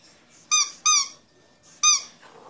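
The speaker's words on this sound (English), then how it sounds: "Now we got his squeaky bone." Three sharp, high squeaks from a squeaky dog toy bone, two close together then one after a pause, loud and clear against near silence.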